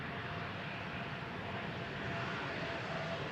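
A KLM Embraer 175 airliner arriving at Amsterdam Schiphol, its engines a steady, fairly quiet broadband roar heard from a distance, holding even throughout.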